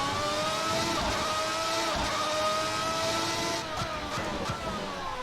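A simulated race car engine from a racing video game, a loud, steady tone held close while driving that rises and shifts in pitch, with brief tire noise near the end.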